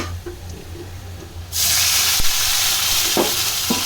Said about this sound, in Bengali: জিরা দিয়ে ভাজা শেষ এখন দিব একটু পানি